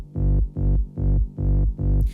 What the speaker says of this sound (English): you have the mini lead 2 saw plus trumpet